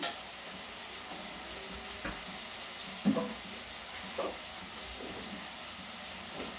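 Onions slowly sauté in oil in a pan for a spicy fish curry, with a faint steady hiss and a few quiet stirring scrapes.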